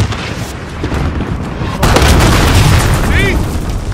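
A cruise missile strike in Call of Duty: Modern Warfare, a loud deep boom at about two seconds that rolls into a sustained rumbling roar, with a brief whistling tone near the end.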